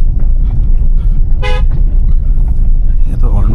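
A single short car horn toot sounds on a narrow road, heard from a Jaecoo J6 EV during a drive, standing out briefly over a steady low road and engine rumble.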